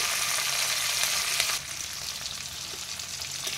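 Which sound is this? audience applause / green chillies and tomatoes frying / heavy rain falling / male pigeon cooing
green chillies and tomatoes frying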